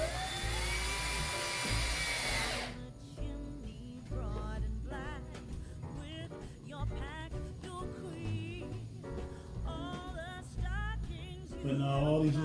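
Power tool driving small screws into a wooden board for a lighted Christmas bell wreath, with short repeated high-pitched whirring bursts in an uneven rhythm, preceded by a louder steady hum.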